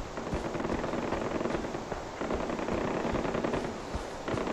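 Video game gunfire in Far Cry 4: loud, dense bursts of shots crackle almost without pause and blend into a continuous roar of weapon fire.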